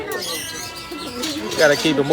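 Pigeons or doves coo and chirp nearby in soft, rising calls that grow a bit louder toward the end, with voices talking underneath.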